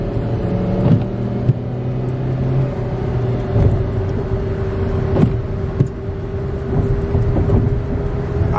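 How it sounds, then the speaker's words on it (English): A car drives fast past the recording point, a steady loud engine rumble and road roar holding throughout with a few sharper bumps, no talking over it. "He driving fast as hell."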